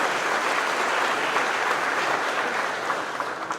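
Loud, dense applause and cheering from a crowd at a company monthly celebration, steady clapping that fills the whole stretch and tapers slightly at the end.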